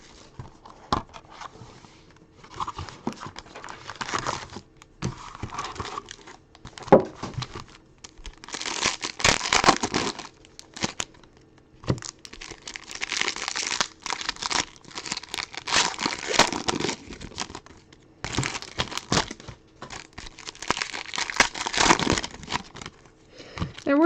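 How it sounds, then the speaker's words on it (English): Plastic wrapping on trading card packs being cut and crinkled during a live pack break, with bursts of crackling and tearing spread across the whole stretch, close and fairly loud, broken by short pauses. "I already cut the plastic on those"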